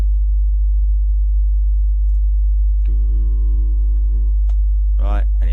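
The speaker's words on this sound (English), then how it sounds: "it's a sine wave, and I've set it to 50 Hertz" A test generator on a drum mixing insert chain puts out a loud, steady 50 Hz sine wave that runs unbroken throughout, with a voice briefly talking over it near the end.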